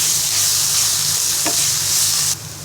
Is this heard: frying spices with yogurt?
yes